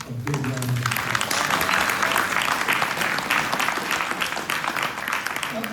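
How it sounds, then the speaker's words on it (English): An indoor audience at a ROTC Hall of Fame evening claps steadily in a dense, sustained round of applause, with a brief voice heard at the very start. "let's give everyone a big round of applause"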